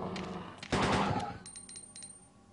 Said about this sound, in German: Jetzt brauchst du, glaube ich, noch ein, zwei Schüsse